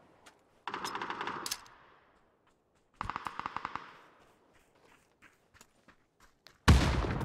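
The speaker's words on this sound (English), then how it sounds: "good shooting" Bursts of automatic gunfire from a video game come in two rapid volleys with a pause between them, then a sharp loud blast close by at the end.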